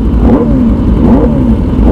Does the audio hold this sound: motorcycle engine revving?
yes